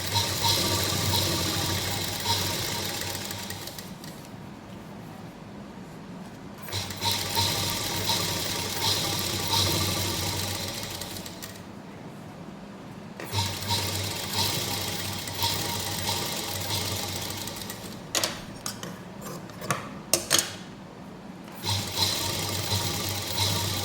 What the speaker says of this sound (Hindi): किनारे किनारे पर सिलाई लगाएंगे।